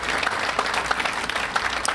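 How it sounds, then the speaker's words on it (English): Sustained audience applause at an award acceptance speech, a dense wash of many hands clapping steadily and fairly loud for the whole stretch, with no speech over it. "Just a round of applause for everybody that made this thing happen."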